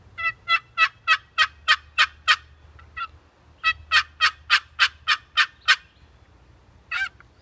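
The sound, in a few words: wooden box call imitating hen turkey yelp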